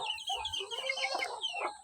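A hen clucks nearby in a run of soft, repeated throaty notes, fairly clear with little else around.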